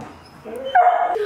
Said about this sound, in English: Why are you howling?